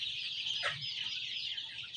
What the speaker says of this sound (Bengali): সোনালি হাইব্রিড ক্লাসিক। এখানে 1000 মুরগি আছে।